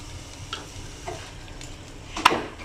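Oil sizzling in a frying pan while cooking paratha, a soft steady crackle with faint stirring ticks and one sharper clink near the end, close and alone.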